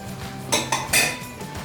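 Red peppers cooked for pickle with garlic and finely chopped parsley added get stirred in a pot, giving a few close metal clinks and scrapes over a steady low hum.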